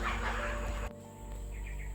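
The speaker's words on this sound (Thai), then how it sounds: "ต้องขออภัยเสียงธรรมชาติเนาะเสียงหมาเห่าหมาหอนอะไรก็" A dog barks and howls outdoors at a rural Thai home beside a small tent set up as a makeshift herbal steam room, a faint, steady background call that stays continuous and distant throughout.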